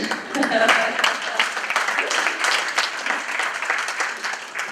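Applause and clapping from a crowd at a school board general meeting, a steady dense patter of many hands held for several seconds at moderate loudness.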